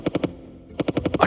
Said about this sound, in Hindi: उन्होंने अपनी बंदूकें निकाली और उस पर गोलियां चलानी शुरू कर दी